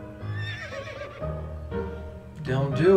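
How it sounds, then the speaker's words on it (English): A horse neighs in the video game To the Moon, with whinnying calls rising and falling over several seconds, mixed with a person talking. "There's a horse."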